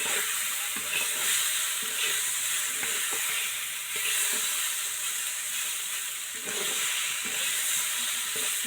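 Singi fish and banana curry being stirred in a pan, a continuous bright hiss of frying with intermittent scraping strokes of a spoon, close and steady, with no talking.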